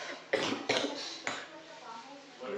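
A person coughing three times in quick succession at close range, each burst harsh and broadband, in a quiet home where the floor is being swept on a rainy day.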